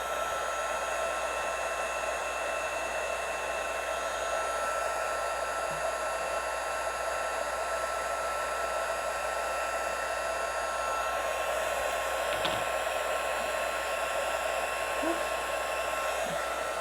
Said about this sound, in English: Grab my tweezers and my heat tool.